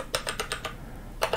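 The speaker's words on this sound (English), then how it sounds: "if we go up here and we type an address" Typing on a computer keyboard while entering an address into a map search: a short run of about five crisp key clicks, then a pause and two more quick taps, close and clear with no talk.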